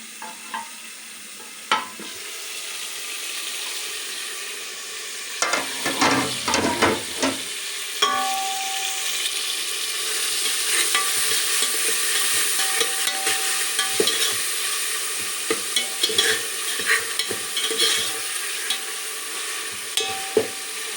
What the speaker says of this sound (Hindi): और ये देखें मसाला अच्छे से भुन गया